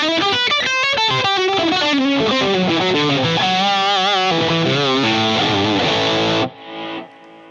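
Heavily distorted electric guitar through a Jackson Audio Asabi overdrive pedal playing chords and melodic lines for several seconds, loud and dense, then cutting off to a brief quieter tail.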